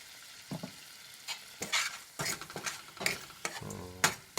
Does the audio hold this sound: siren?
no